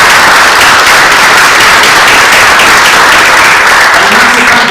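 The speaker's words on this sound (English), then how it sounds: "I'd like to offer a big round of applause to Leila and all" A church congregation gives a loud, dense round of applause that holds steady for several seconds before easing slightly at the end.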